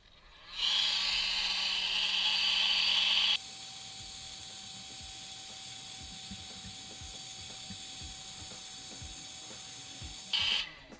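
A heat gun blows a steady, airy hiss while it shrinks heat-shrink tubing on a fly-tying bobbin. The tone shifts partway through and the hiss runs about ten seconds before cutting off.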